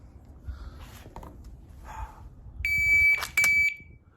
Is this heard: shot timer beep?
yes